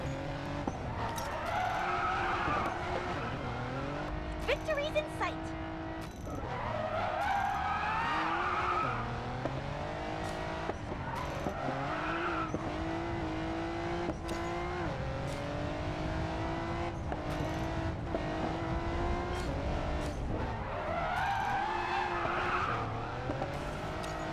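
Race car in the Racing Master video game skids with the handbrake, tires squealing in long repeated sweeps over a constant engine drone, close and loud with no voices.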